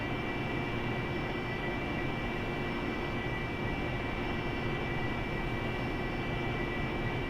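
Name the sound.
airplane taxiing in a flight simulator video game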